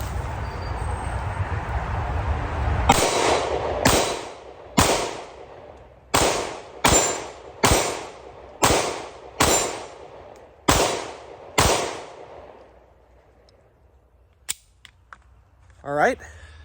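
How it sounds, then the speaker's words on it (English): A Springfield CR920 handgun fired outdoors, about a dozen sharp, loud shots in an uneven rhythm, each with a short ringing decay, then quiet with faint handling sounds at the end. "So enough talking, let's do a little shooting."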